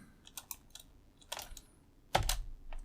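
Keys tap on a computer keyboard during command-line work, a few light scattered clicks ending in one firmer Enter press, close and quiet.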